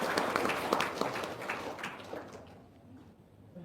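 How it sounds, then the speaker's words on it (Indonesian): An audience at the close of an Islamic religious gathering gives a short round of applause, a dense patter of many hands that fades over a few seconds. "Oke, tepuk tangan dong"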